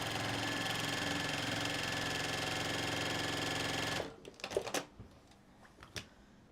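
A sewing machine runs steadily at speed while stitching a quilt block from fabric scraps, then stops abruptly, followed by a few scattered clicks and handling sounds nearby.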